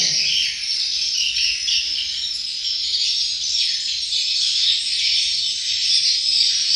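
A swiftlet lure call plays as a continuous, dense high chirping and twittering, steady and loud throughout with no pauses, set among mixed bird and insect-like chatter.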